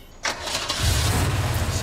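A car engine cranks and catches in a dramatic TV scene, a short burst followed by a low, steady idle rumble that holds to the end, with no talk over it.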